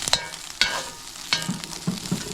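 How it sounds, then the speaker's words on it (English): Vegan meat for plant-based bulgogi fried rice sizzling in a pan, steady frying hiss with a few sharp scraping stirs, close and fairly loud, no voices. "my meat is, vegan meat is browning up nicely"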